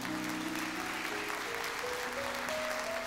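A church congregation claps together during a worship service, a steady, dense wash of applause that stays even and moderately loud throughout, with a faint sustained tone beneath it.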